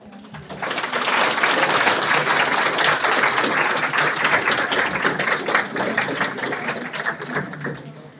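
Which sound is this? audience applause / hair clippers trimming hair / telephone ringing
audience applause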